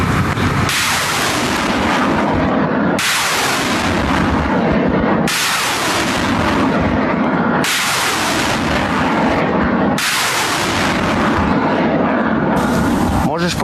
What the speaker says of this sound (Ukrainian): Головнокомандувач ЗСУ опублікував відео роботи бойової обслуги граду 36-ї окремої бригади морської піхоти.